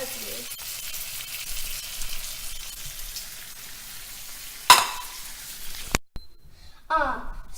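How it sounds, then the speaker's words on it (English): A New York strip steak sears in a pan with a steady, close sizzle and frying hiss, broken by a sharp clatter near the end before the sound cuts off. "pan seared it for 1 minute on each side"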